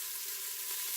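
Ginger and onions sizzle steadily in the hot pot of an Instant Pot, a dense, even frying hiss that runs without a break for the whole moment, close and alone.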